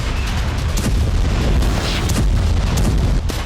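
Bomb blasts and tank shelling in a war zone form a continuous heavy, rumbling roar with deep booms and bursts layered on top, loud and dense throughout.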